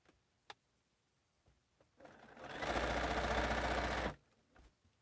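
A sewing machine stitching 2-inch quilt block squares runs in one fast, steady burst of rapid mechanical whirring for about two seconds, with faint handling clicks before and after and no talking.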